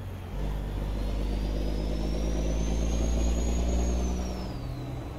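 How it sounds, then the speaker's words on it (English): Jake brake on an old Autocar truck in American Truck Simulator: a sustained, loud rumbling engine-brake drone with a slowly rising then falling whine, fading slightly at the end. "It's always fun to put the windows down, hear the Jake break."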